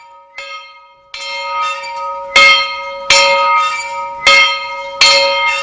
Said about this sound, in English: Mr. Voss, can you tell me why all these church bells are ringing?